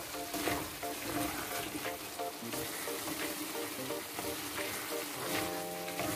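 Chicken curry with chili powder sizzling and frying in a pan while being stirred, a steady close crackle with faint scraping throughout and no voices.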